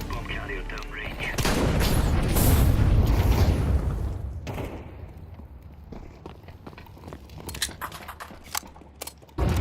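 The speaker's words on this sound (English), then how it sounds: "Throwing a grenade." Grenade blast in a tactical shooter match, opening with a heavy rumbling boom that swells and decays over a few seconds, followed by scattered footsteps, distant gunfire pops and sharp clicks, with game voices speaking over it.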